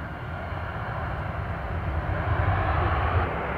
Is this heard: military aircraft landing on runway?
yes